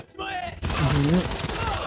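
Gunfire in the video game Modern Combat 5, a short burst of rapid game shots after a brief quieter moment, loud and dense, with a voice speaking over part of it.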